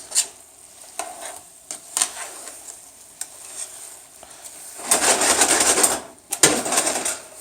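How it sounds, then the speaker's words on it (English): Chicken wings are tossed and coated in a sweet pineapple mango habanero sauce in a pan. Close, wet scraping and stirring are broken by sharp utensil clicks, with bursts of sizzling splatter near the end. "I'm gonna take my wings and start dumping them in there"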